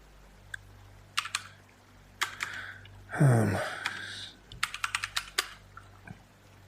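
Clicky bursts of typing on a computer keyboard come in short irregular runs, close and fairly quiet, with a brief louder breathy rustle in the middle and no talk over them.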